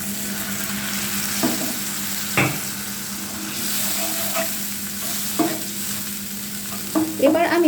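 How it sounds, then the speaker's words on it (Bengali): Spices and onion fry in a pan for a boal fish curry with tomato, a steady sizzle running under intermittent scraping stirs and a few sharper clinks, with no voices. "এবার মশলাগুলোকে হালকা পেঁয়াজের সাথে ভেজে নিচ্ছি"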